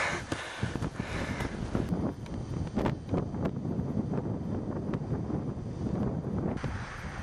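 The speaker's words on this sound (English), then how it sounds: "the wind's getting up" Wind buffeting the microphone on the top of a chalk cliff hill on the Seven Sisters, a constant gusty roar with rough bursts throughout, no voices.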